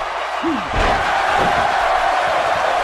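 Loud, dense crowd noise fills a live wrestling show at Anime Revolution 2018 as fans roar during a fast-building match, a sustained wall of cheering with a brief thud near the start.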